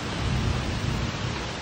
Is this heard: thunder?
yes